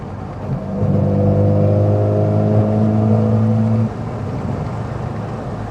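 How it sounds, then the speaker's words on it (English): A steady engine drone with a deep, throaty tone holds for a few seconds, then drops to a quieter rumble, heard from close by without any talking: an MG Midget with Lenham Le Mans GT body, carburetor intake and raucous exhaust. "You can hear the air being sucked into the carburetors, as well as the raughty exhaust."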